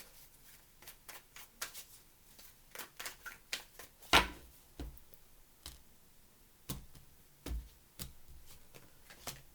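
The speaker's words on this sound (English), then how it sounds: "3 more shuffles." Tarot cards are shuffled in a quiet room at a love reading, a string of crisp close riffles and taps in uneven bursts with one sharper, louder slap midway and no talking.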